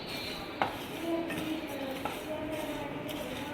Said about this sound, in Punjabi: ਥੋੜੀ ਦੇਰ ਵਾਸਤੇ ਆਪਾਂ ਹੋਰ ਭੁੰਨ ਲੈਣਾ ਹੈ